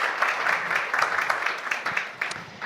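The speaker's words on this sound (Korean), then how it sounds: "우리 서로를 위해서 박수 부탁드릴까요?" An audience of parents at a school vision-sharing event claps in steady, moderately loud applause that thins slightly near the end.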